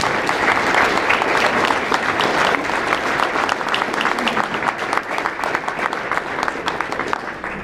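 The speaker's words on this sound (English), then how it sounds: "Give her a round of applause." Sustained, dense applause from an audience at a congresswoman's holiday party and toy drive, loud and even throughout, with no break in the clapping.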